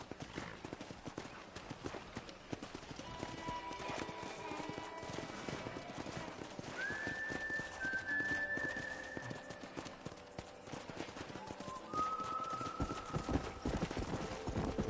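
Rhythmic clip-clop of horse hooves at a steady trot in the video game Red Dead Redemption, with an occasional whinny and faint voices in the background.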